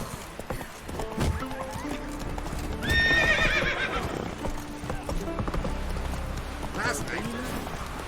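Roach, a horse in the video game The Witcher 3, trots with steady clip-clop hoofbeats and lets out a whinny partway through, amid game ambience and speech.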